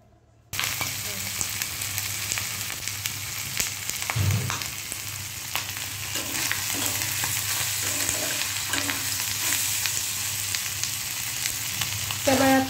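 Meat braising and frying in a pan, a steady broadband sizzle running throughout after a brief quiet start, with occasional louder stirs and scrapes near the cook.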